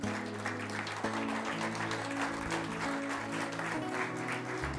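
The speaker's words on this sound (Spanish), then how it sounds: "Dale un aplauso al Señor" Congregation applauding during a church service, a steady wash of clapping underneath sustained organ or keyboard chords, moderately distant and even.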